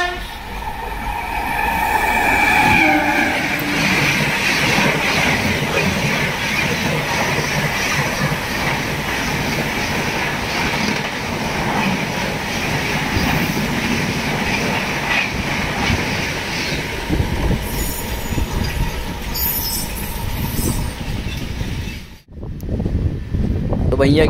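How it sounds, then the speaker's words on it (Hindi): A Sampark Kranti Express runs at high speed on the Delhi to Mumbai route, with a continuous loud roar of the carriages and rumbling wheels throughout, plus a brief horn-like tone, then a sudden short dip near the end. "किंग राजधानी से एक ब्रूटल ओवरटेक खाने के बाद हमारी ट्रेन फिर चल पड़ी है एक हाई स्पीड रन की तरफ।"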